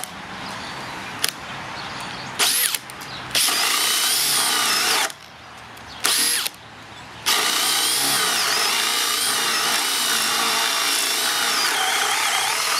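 A Bosch cordless drill bores into wood, its loud steady whine starting and stopping in a few short bursts before running continuously for a long stretch, close and alone without talk.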